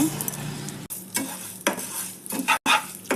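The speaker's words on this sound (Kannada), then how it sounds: "ಬಾಣಲೆಗೆ ಒಂದು ಚಮಚ ತುಪ್ಪ ಹಾಕ್ಕೊಳ್ಳಿ ನೋಡಿ ಕಾಲು ಕಪ್ಪಷ್ಟು ಬೇಳೆ ತೊಗೊಂಡಿದ್ದೀನಿ ನಾನು ಬೇಳೆ ಇದಕ್ಕೆ ಹಾಕಿ ಹುರ್ಕೊಳ್ಳೋಣ" Lentils roast in a spoonful of ghee in a pan, a light sizzle broken by repeated scraping strokes of a spoon stirring them, close and distinct, no voices.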